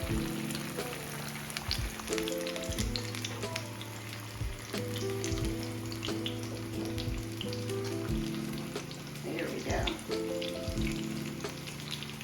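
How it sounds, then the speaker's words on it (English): Breaded food frying in hot oil in a pan, a few pieces at a time, gives a steady close crackling sizzle for the whole stretch, with occasional clinks and bumps on top and no voices. "I'm going to stick this into some hot oil"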